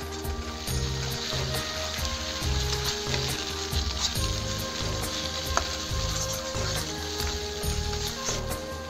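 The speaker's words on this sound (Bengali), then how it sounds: "এই মশলাটা আমি ভালো করে কষাই নেব" Masala with a spoonful of ginger-cumin paste sizzles and fries steadily in a pan for a Bengali potato and eggplant dish, a continuous close hiss with faint stirring scrapes and no talking.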